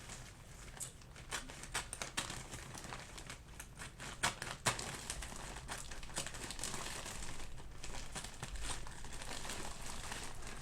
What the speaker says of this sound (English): I'll cut it right across here.